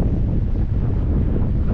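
Strong wind buffets the microphone at a sandy fishing point near a drain, a loud, steady low roar with no talk over it.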